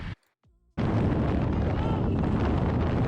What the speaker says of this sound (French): Un violent vent latéral me pousse sur le côté.